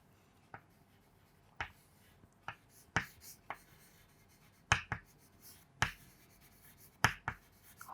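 Chalk or marker writing on a board during a chemistry lesson, about a dozen short, sharp strokes and taps at an uneven pace, fairly close and quiet, with no talk over them.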